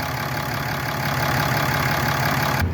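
A 2017 Dodge Ram diesel pickup engine idles steadily up close, a continuous rumbling drone that cuts off abruptly near the end.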